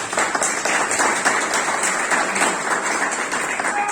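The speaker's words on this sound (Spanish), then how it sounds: "Entonces la recibimos con un fuerte aplauso." Sustained applause from a church or seminar audience welcoming a speaker, a dense steady wash of clapping with no voices over it.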